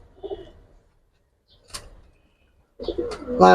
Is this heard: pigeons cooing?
yes